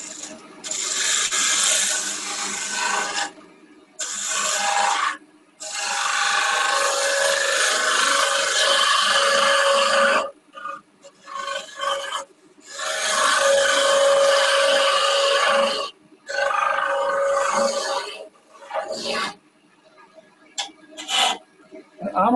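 Woodturning gouge cutting into a spinning wood spindle on a lathe: rough, hissing scraping passes of a few seconds each, separated by short pauses, loud and close, with a voice speaking faintly in the gaps.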